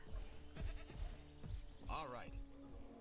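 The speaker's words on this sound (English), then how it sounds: "I guess I accidentally got a goat in there" A goat bleats once in the dinosaur park management game Jurassic World Evolution, a wavering nasal cry standing out over game sounds and a man's speech.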